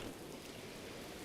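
Steady rain falling in the open world of Zelda Breath of the Wild, a dense even hiss without breaks, faint and alone.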